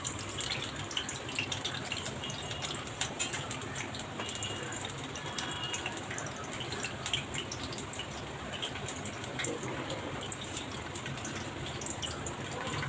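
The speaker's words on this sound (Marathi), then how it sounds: "मोहरी तडतडते एका बाजूला." Mustard seeds crackling in hot oil and ghee in a kadhai: a steady, dense sizzle scattered with quick pops, continuous and fairly loud, with no talking.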